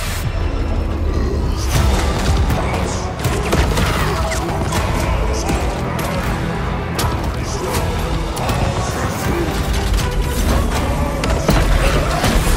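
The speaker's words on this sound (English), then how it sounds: "dropping bombs" Bombs drop and explode during a fantasy battle with dwarves in a Total War Warhammer III trailer, a dense, continuous roar of crashes, booms and thuds that stays loud throughout, with a voice briefly heard.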